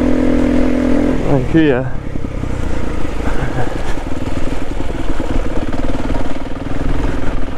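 A SWM RS300R motorcycle engine runs steadily while riding through mud, a continuous mid-pitched drone with small surges throughout, close and loud with someone talking over it.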